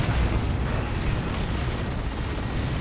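Orbital bombardment in Dawn of War 2 sending up a dense, continuous roar of blasts and rumbling booms, loud and unbroken for a few seconds with no talk.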